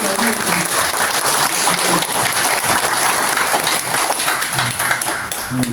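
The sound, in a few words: audience applause for arriving guests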